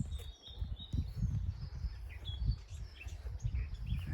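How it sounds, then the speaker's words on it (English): Birds chirping and singing in a Suffolk garden in April, faint scattered calls over a low rumbling background. "Listen to the birds. They're busy this time of the year."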